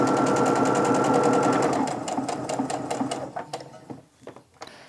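A sewing machine stitching quilt seams runs loud and steady for about two seconds, then slows into a string of separate needle thumps that fade out near the end.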